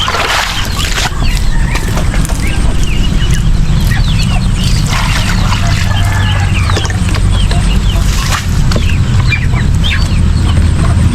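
Ducks and other poultry in a backyard farm, loud and close, with overlapping clucks, quacks and chirps over a constant noisy outdoor background.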